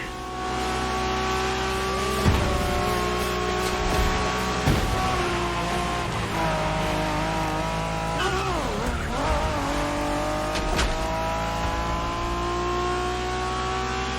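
Racing cars in The Crew Motorfest street racing roar continuously at close range, with engine revs climbing and dropping, gear shifts and short tire squeals scattered throughout.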